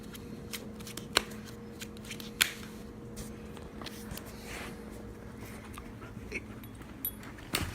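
Playing cards handled and shuffled for a card trick with a dog indoors, a quiet run of soft riffling and rustling with a few sharper snaps and taps, no talk.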